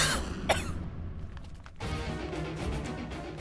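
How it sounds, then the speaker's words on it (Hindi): One sharp, loud cough bursts out suddenly, followed by softer throat-clearing sounds and a noisy indoor background, all from a person who was drinking water. "खांसी हो रही है"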